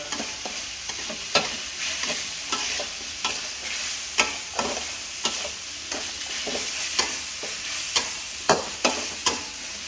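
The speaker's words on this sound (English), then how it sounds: "Your chilies and garlic goes in. Just give it a nice good stir." Chilies and garlic sizzle in a hot pan for a Thai stir-fry as a utensil stirs them, giving a steady frying hiss broken by repeated sharp scrapes and clinks at an irregular rhythm, close and fairly loud, with no talking.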